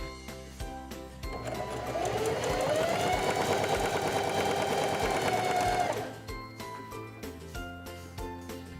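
Singer 4411 heavy duty sewing machine running a stitch for about four seconds, a steady close mechanical whir with rapid needle clatter, rising and then stopping, with quieter clicks and handling sounds before and after.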